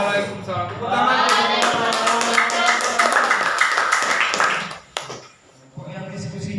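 Classroom applause and cheering from students after a group presentation, a dense burst of clapping with voices mixed in through most of the stretch, dropping away briefly near the end before the noise picks up again.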